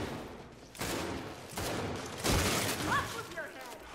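Gunfire from the Gears 5 video game in a ranked Control match, a dense volley of shots in several bursts with crashing impacts, mixed with game noise.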